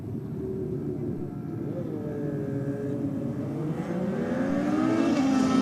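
A turbocharged drag-racing motorcycle launches and pulls down the strip at a Sydney Dragway bike night, its engine roar climbing steadily in pitch and growing louder over several seconds.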